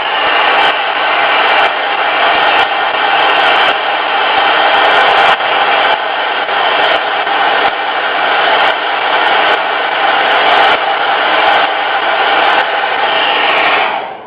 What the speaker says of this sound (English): Now I'm going to take my dryer.